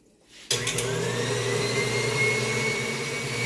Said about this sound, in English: Let's kick our mixer on high.